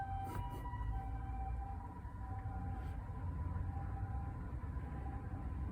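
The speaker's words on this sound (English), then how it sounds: "Oh, now we've got an ambulance." A faint, distant ambulance siren holds a thin steady tone over low rumbling background noise, with a couple of brief clicks.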